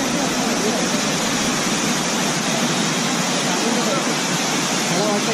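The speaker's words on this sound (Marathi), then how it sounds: "मस्त असा धबधबा" A hidden waterfall near Mumbai roars steadily and loudly, a dense, unbroken rush of falling water that fills the whole stretch without pause.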